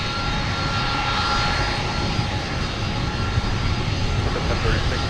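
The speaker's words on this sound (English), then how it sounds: "get ready for our first big heavy Mike taxi of the day" Heavy jet airliner engines rumble and roar steadily at Minneapolis–Saint Paul (MSP) airport, a broad continuous whine and drone heard from moderate distance with no pauses.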